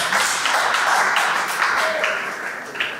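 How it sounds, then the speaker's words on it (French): An audience at a youth event claps warmly, a brief burst of applause that fades over a few seconds with some voices mixed in. "nous applaudissons chaudement"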